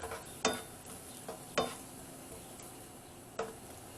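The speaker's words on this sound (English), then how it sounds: "In goes your 1/4 cup of onion. And that'll just cook up." A quarter cup of onion sizzles faintly in a pan with melted butter, a soft steady frying hiss broken by a few sharp clinks and stirs from a utensil against the pan.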